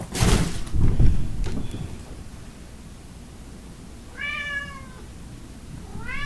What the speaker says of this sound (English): Got a demon cat.